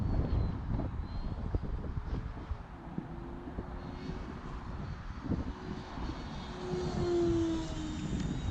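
An E-Flite Viper 70mm EDF RC jet whines through its approach to land on a gusty day, a thin steady ducted-fan tone that shifts pitch and grows louder near the end over wind rumble.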